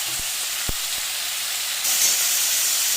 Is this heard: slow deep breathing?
no